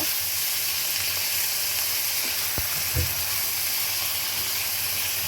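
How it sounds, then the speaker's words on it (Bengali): Small pieces of meat frying in a pan for Old Dhaka-style tehari, a loud, steady close sizzle with a few faint clinks of stirring, no voices. "কিছুক্ষণ আমি ভেজে নিব, মাংসটা একটু ভেজে নিব।"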